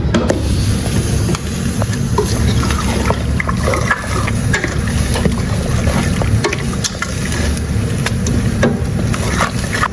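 Chicken pieces being stirred into masala in a pan while cooking biryani, giving a steady wet scraping and sizzling texture with light spatula clicks throughout, fairly close and continuous.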